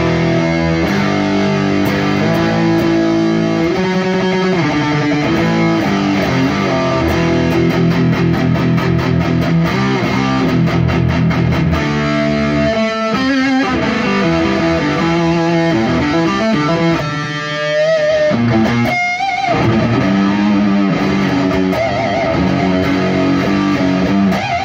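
Heavily distorted electric guitar through a Boss SD-2 Dual Overdrive pedal, lead channel, playing loud, dense riffs and chords for the whole stretch, with brief pauses and bends along the way.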